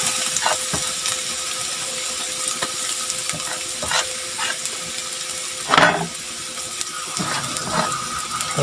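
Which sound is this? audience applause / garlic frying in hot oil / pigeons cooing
garlic frying in hot oil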